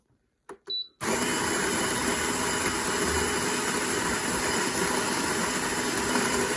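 A budget binROC burr coffee grinder whirs steadily while grinding coffee espresso-fine, a loud continuous motor drone after a couple of short clicks and bursts at the start.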